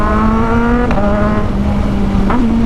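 A Kawasaki Ninja 1000SX motorcycle ridden at night in traffic around Malolos, downshifting; a loud, close engine drone holds steady, then blips and rises sharply twice as the gears drop, with wind rush throughout.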